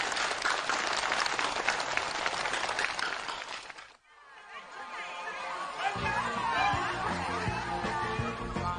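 Participants at a permit handover ceremony for forest houses applaud enthusiastically, a dense, steady burst of clapping that cuts off abruptly, followed by a quieter scene with crowd chatter and some laughter.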